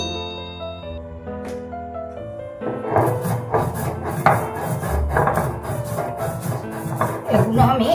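White mustard seeds and salt are ground together on a stone slab, making a steady, rhythmic rasping scrape that gets louder and busier after a soft start, with music playing underneath.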